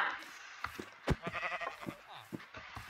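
Sheep bleating in the Minecraft video game, a few short bleats scattered through the clip over game sounds and talk, one louder close bleat near the middle.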